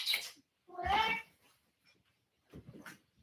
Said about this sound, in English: And the cat might join in.